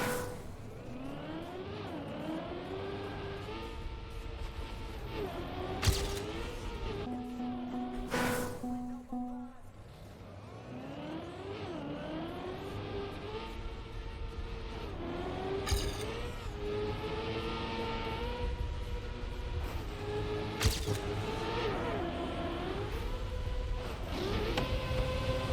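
A car driving in a game: a steady engine drone rises and falls in pitch as it accelerates and turns, with several sharp bursts and thumps along the way, moderately loud and continuous for about 25 seconds.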